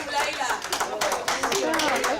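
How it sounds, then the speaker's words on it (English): An audience at the OCEANS Network annual general meeting gives dense, sustained applause for the current lady president, many hands clapping together in a steady, lively wash throughout. "big clap for the current lady president"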